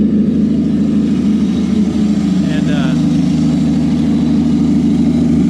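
An old Willys truck engine idles steadily and too high, a constant low rumble that stays loud and unchanging throughout.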